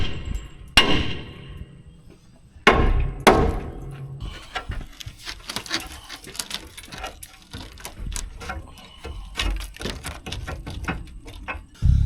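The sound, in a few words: hammering on a heavy haul truck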